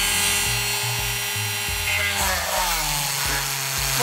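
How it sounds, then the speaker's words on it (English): A power drill whines as it bores into a circuit board for MIDI organ pedals, its motor pitch stepping and dropping repeatedly under load in short bursts, loud and close. "it really turned out to be impossible to drill through the board"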